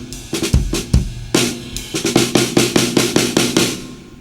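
An untuned snare drum struck at the center rings with its natural sound, a dozen or so sharp, loud hits in an uneven then steady rhythm, each with a short buzzy decay, alone and close.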